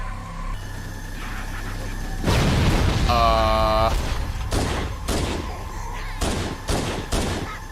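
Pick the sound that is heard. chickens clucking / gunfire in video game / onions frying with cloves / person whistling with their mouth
gunfire in video game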